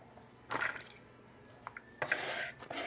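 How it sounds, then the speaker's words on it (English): Chopped mango salsa ingredients tumble into a plastic Tupperware bowl in two soft, clattering bursts, with small taps and knocks between them at close range. "Take all of your ingredients and put it inside your bowl, just like that."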